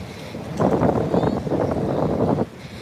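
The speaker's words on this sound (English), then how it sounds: "Can y'all still hear me over the wind?" Strong wind gusts buffet the microphone on a beach, a loud blustery roar that rises and holds for a couple of seconds before dropping back, with no voices heard.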